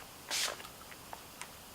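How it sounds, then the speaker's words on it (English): A single quick spritz of Urban Decay All Nighter setting spray mists onto a face close by, followed by a few faint small ticks and clicks in a quiet room. "I'm gonna use Urban Decay All Nighter Setting Spray."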